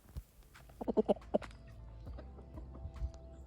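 A rooster being held gives a short burst of soft, low clucks, close by, followed by quiet rustling.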